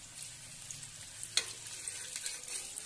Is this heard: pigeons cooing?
no